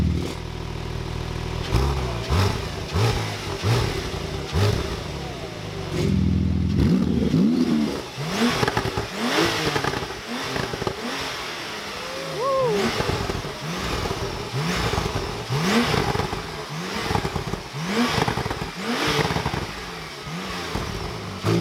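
Porsche GT2 RS with the Weissach package revving at delivery, a loud engine blipping repeatedly in quick, rhythmic bursts close by, with a clattery mechanical edge and no talk.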